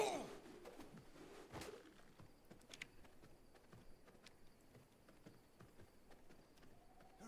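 Horse hooves clip-clopping in the video game V Rising, a faint irregular patter of steps at a distance with a few sharper knocks and soft background ambience.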